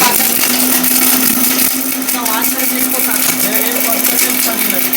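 A mixer grinder whirs loudly and steadily with a constant motor hum and rattling, while people talk over it.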